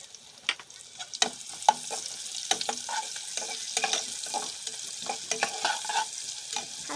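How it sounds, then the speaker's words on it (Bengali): Green chilies and onion frying in a pan for pulao, a continuous close sizzle with scattered spoon scrapes and stirring taps throughout, no voices over it. "হালকা ভেজে নেব"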